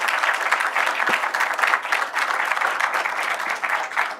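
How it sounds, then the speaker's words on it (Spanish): Workshop audience applauds a speaker named Santiago, a continuous, fairly close round of clapping that swells and tapers slightly, without talk. "Yo les pido un aplauso para Santiago"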